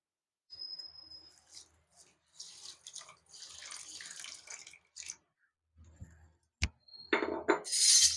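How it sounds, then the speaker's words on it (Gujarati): Water poured into sugar in a pan while making sesame sweets, a close, gentle splashing and trickle in several short bursts, ending with a louder pour and a pan clank. "તો હવે આપણે આમાં પાણી નાખશું।"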